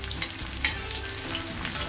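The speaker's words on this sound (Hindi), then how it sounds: "प्याज फ्राई करते हैं" Onions frying in hot oil for a kadhi pakoda tempering, giving a steady close sizzle and crackle with no talking.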